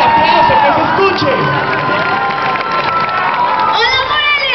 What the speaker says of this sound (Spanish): ¡Fuerte el aplauso, que se escuche!